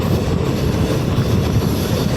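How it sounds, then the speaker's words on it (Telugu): DEMU passenger train between Ballari and Hosapete picking up speed, a loud continuous rumble of wheels on rails with rhythmic clickety-clack and a hint of squeal, no voices. "డెమో ట్రైన్స్ యాక్సలరేషన్ చూస్తున్నారుగా"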